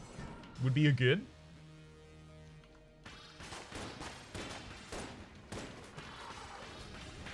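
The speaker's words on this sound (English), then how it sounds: "We have to fire pretty quickly in this fight" Rapid gunfire from the rad gun in Enter the Gungeon during a boss fight, a dense run of quick shots with scattered impacts following a brief tonal game sound.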